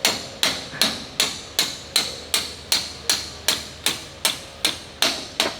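A hammer strikes repeatedly to drive a part into fit during restoration work on a Wespe, about thirteen sharp, evenly spaced metallic blows, close and loud, with no talk.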